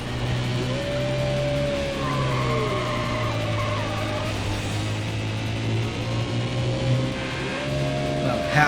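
Jaguar XKR engine revving steadily in Need for Speed: High Stakes, a continuous loud drone with pitch rising and falling through gear changes and brief tire squeals, under a voice talking throughout.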